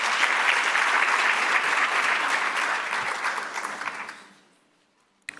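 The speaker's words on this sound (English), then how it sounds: "You can give him another round of applause." A forum audience at an industry stakeholder engagement gives a round of applause, a full dense clapping that holds for about four seconds, then tapers off quickly into near silence.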